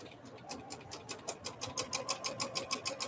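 A home sewing machine runs at a steady pace, its needle producing a fast, even rhythmic ticking and whirring, fairly close and on its own without talk.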